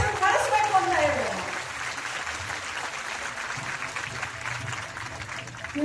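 An audience at a talk on education claps, a broad steady patter of many hands that fades slightly after the first second, with a voice speaking over the start.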